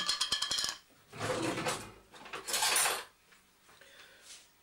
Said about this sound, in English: put some desiccated coconut in a bowl. And mix it in with some jam.